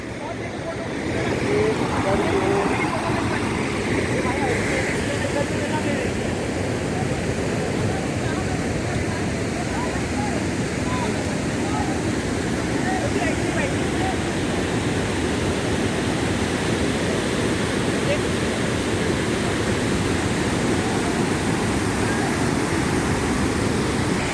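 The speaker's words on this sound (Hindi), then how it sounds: "तो एक और व्यू कुकड़ी काफा वाटरफॉल का।" The Kukdi Khapa waterfall gives a steady, broad roar of falling water that fills the whole span at close range, while a voice talks over it for much of the time.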